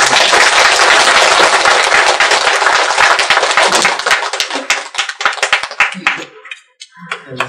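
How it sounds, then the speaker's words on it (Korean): Loud applause fills a church sanctuary during a Sunday sermon, a dense crowd of clapping hands that thins into scattered claps and dies out near the end. "다시 한번 우리 박수 한번 쳐주시고."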